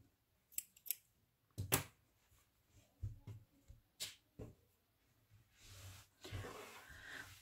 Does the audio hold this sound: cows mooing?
no